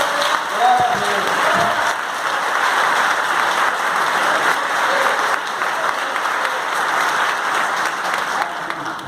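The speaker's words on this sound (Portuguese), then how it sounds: "Nós podemos dar uma salva de palmas para Jesus?" A church congregation at a worship and intercession congress breaks into a long, dense round of applause that holds steady and fills the room, with a few voices briefly audible at the start.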